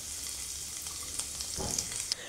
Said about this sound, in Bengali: রসুন দিলাম।